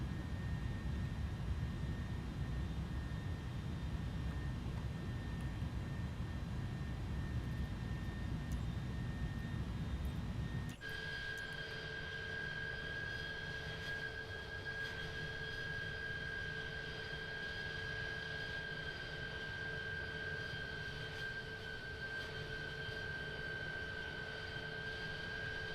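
An airplane engine in Microsoft Flight Simulator 2024 on PS5 Pro hums steadily, first as a low broadband rumble and then, after an abrupt shift, as a smoother tonal whine, continuous and moderately loud with no talk.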